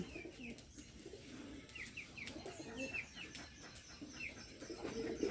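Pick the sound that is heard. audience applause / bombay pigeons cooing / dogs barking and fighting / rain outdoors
bombay pigeons cooing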